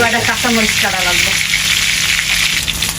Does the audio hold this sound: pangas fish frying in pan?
yes